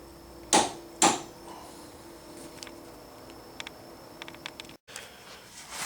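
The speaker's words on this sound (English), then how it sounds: "we got the tensioner torqued down to 40 foot-pounds of torque" A torque wrench tightens the timing belt tensioner bolt to 40 foot-pounds on a 2001-06 Hyundai Elantra, giving two sharp clicks close together, followed by faint small ticks of tool handling.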